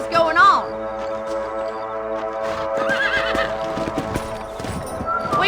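Horses' hooves clip-clop at a trot in Red Dead Redemption while a horse neighs, with voices talking over the hoofbeats and background music.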